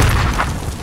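A deep, booming explosion rumbles in Warzone, a heavy low blast that fills the brief moment and fades slightly toward the end.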